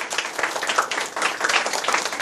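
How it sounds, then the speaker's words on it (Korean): Audience applauding a student at a lecture, steady dense clapping from many hands filling the room for about two seconds, with no talk over it. "우리 학생을 위해서 박수 한번 쳐드리시죠"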